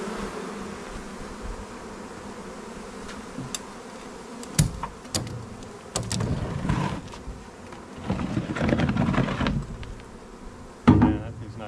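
Honey bees buzz around hives set out for almond pollination, a steady hum close by, broken by knocks and clunks of hive equipment being handled.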